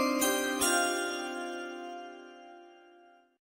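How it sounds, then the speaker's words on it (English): A set of chimes is struck twice in quick succession by a producer, bright metallic ringing that then hangs and slowly fades over a few seconds, clear and alone without any talk. "Chris, you can ring the chimes here now if you want, buddy."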